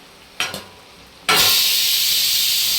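Dry spices go into a pan of sizzling mutton for a dry mutton chaap: a brief clatter, then a loud, steady, broad hiss of frying that fills the rest of the moment, close and with no voices.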